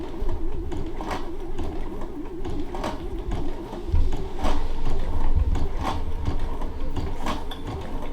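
A Sashiko sewing machine stitches steadily with its presser foot lowered, producing a continuous mechanical whir with a rhythmic clatter and periodic thumps at regular intervals.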